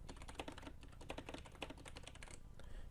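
Rapid, close clicking of keys on a computer keyboard as a short message is typed, a steady run of light taps with no talk.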